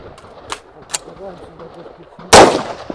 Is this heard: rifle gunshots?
yes